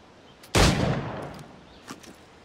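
A single loud gunshot in Assassin's Creed Black Flag, fired while hunting an animal, cracks out and leaves a lingering decaying rumble, with a faint later pop.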